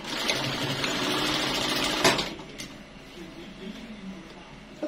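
A sewing machine stitches the seam of a gathered underbust corset gown with a steady, fast mechanical whir for about two seconds, then stops, leaving quieter handling sounds.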